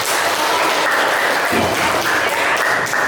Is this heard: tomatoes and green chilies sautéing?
no